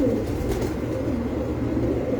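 Pigeons coo on a rooftop loft, a steady low murmur of cooing that stays continuous and fairly close throughout, with no voices over it.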